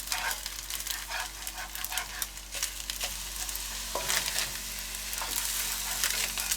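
Eggs with onions and rice fry in a hot pan, giving a dense continuous sizzle with intermittent stirring scrapes and a low steady hum beneath.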